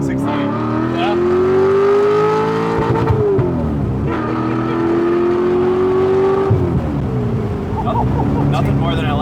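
LS V8-swapped Porsche 911 with a custom exhaust revs hard, rising in two long pulls to the rev limiter before dropping back; loud and close, with engine noise throughout.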